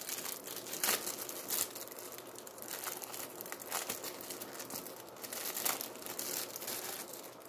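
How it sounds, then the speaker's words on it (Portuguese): Foil wrapper of a Dragon Ball GT trading card pack being opened by hand, with steady close crinkling and crumpling, a few sharper tearing bursts, and no talking. "Vamos já abrindo aqui logo o primeiro envelope"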